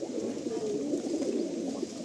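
Breeding pigeons, Pakistani Teddy birds, coo in a low continuous murmur, several birds overlapping in a steady rolling drone close by.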